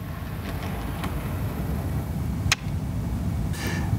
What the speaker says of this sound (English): You'll notice the locomotive pulls away nice and slowly.